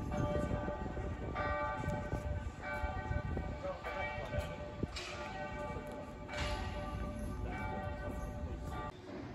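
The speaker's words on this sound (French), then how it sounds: "Ici nous avons les sons de cloches dans les églises qui sont là-bas." Church bells in Oxford, England ring out repeatedly at a distance, their tones layered over steady outdoor ambience with faint voices and general street noise.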